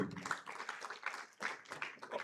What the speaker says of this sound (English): If you don't clap for her, I'll come and give you the mic to come and do this job.